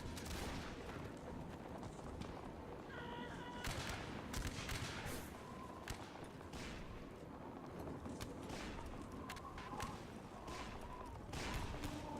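Artillery fire in a video game battle in North and South: a dense, continuous roar of distant cannon and gunfire with sharper crackling shots throughout, no voices.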